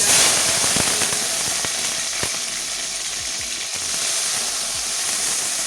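Okra sizzling in hot oil with turmeric in a pan, a steady bright frying hiss with scattered small pops and crackles, close and continuous with no talk.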